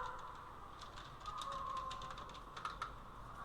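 Fingers tap quickly on a computer keyboard, a faint run of light clicks in a quiet room, close and alone.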